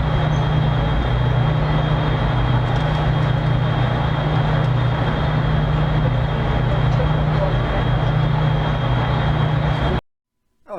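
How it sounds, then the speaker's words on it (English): A long freight train, apparently loaded with pulpwood, rumbles steadily past in the Rocky Mountains, a loud continuous roar with a low drone that lasts about ten seconds and then cuts off abruptly. "Oh, that is a gigantic train."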